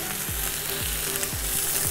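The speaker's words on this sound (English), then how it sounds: "Hear that beautiful sizzle, and let's just give them about 30 seconds each side." Steak sizzling in a hot frying pan while beef wellington for two is prepared, a steady close-up hiss and crackle of searing meat with no voices over it.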